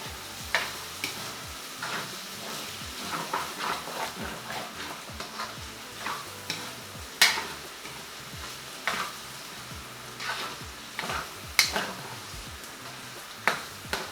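Pork pieces toasting in a hot wok during Chinese-style home cooking, a steady sizzle broken by frequent scraping and stirring knocks and clacks, close and moderately loud, with no talking.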